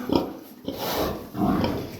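Pigs feeding from a trough on a farm, close grunting and snuffling with wet chomping noises, fairly loud and continuous over two seconds.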